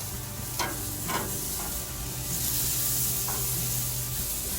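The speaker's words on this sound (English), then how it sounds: "we're just going to go in and we're going to give it a little bit of a flip" Carne asada petite loin sizzling steadily on a grill as it is flipped, a close, continuous fry hiss with a few scraping stirs and taps over it, no talking.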